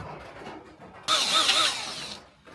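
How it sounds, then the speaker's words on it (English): A power drill with a hole saw bores a 1-inch hole through a cabin door, starting abruptly partway in and whining steadily for about a second before stopping, with faint quieter sounds around it. "And we need to drill a 1-inch hole from here"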